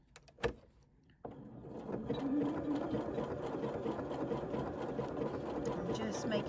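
A sewing machine stitches appliqué letters onto a knitted Christmas jumper; after a couple of clicks it starts up into a steady, close mechanical whir that runs continuously, with a voice faintly present underneath.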